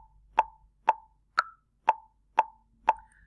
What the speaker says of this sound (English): The 1 being the high pitch click and the 2, 3, 4 the lower pitch clicks like this.